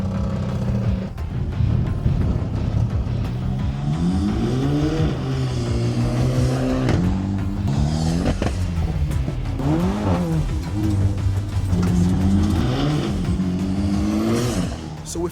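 A Volkswagen Caddy van with a TSI engine hums and revs repeatedly as it drives, pitch climbing and dropping with each acceleration, loud and close throughout.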